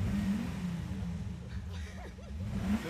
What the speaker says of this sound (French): Le moteur il fait un bruit, on dirait que c'est artistique